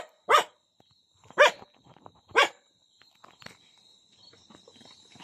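Two dogs barking from a distance at a village home, three sharp loud barks spaced about a second apart, followed by fainter scattered barks and a steady insect drone in the background.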